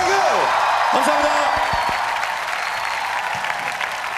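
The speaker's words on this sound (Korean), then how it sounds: "박수." A studio audience at a Korean TV comedy show applauds loudly and steadily, with scattered voices and a few cheers mixed in over the clapping.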